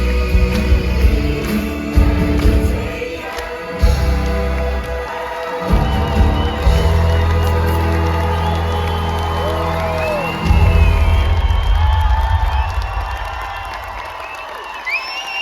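At the finale of a stage musical, a theatre crowd claps and cheers loudly while music with heavy low beats plays. Whoops and shouts rise over the sustained applause.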